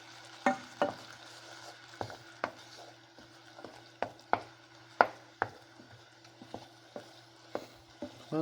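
A spoon scrapes and taps in a pan of simmering palm sugar sauce, sharp irregular knocks over a quiet steady sizzle and low hum.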